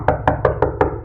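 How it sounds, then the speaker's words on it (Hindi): Five sharp knocks on the door of a hut, evenly spaced and close, sounding alone with no talk. "द्वार खटखटा कर देखता हूँ।"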